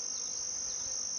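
Honey bees hum inside an open backyard hive, a steady close high-pitched drone holding constant throughout, with no talking.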